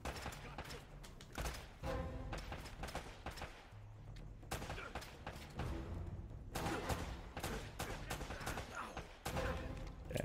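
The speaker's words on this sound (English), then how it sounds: "people are shooting at me" Enemy gunfire in the action game Uncharted: Drake's Fortune, with dense bursts of rapid shots and machine-gun fusillades in a sustained loud barrage, pausing briefly before resuming.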